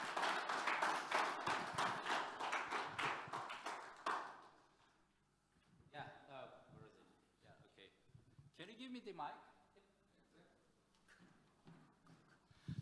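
A conference audience applauds a speaker with dense, steady clapping for about four seconds. The clapping then fades out and a voice begins talking.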